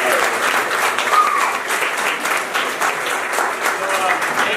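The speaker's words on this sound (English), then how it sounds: "One more time, round of applause for Bernard and Andy" A crowd at a business talk gives a round of applause, dense continuous clapping that stays fairly even throughout, close and loud.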